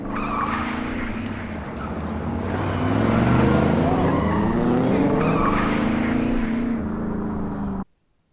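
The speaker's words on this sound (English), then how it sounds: "Why was there a tyre screeching noise on dirt?" A car in a movie scene drives across dirt with its tyres screeching in a long, loud, wavering squeal over engine roar, building and holding before cutting off abruptly.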